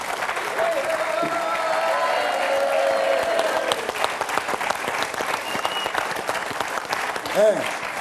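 A television studio audience on a French talk show applauds steadily and loudly for several seconds, a dense crowd clapping that tapers slightly near the end while a voice briefly sounds underneath.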